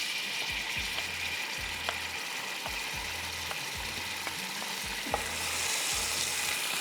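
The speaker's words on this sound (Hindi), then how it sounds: "लाल प्याज को थोड़ा सा मैं फ्राई करूँगी, साथ ही मैं इसमें डाल दूँगी जिंजर गार्लिक पेस्ट" Red onion fries with ginger garlic paste in a pan, a continuous close sizzle broken by a regular series of scraping stirs, with no voices.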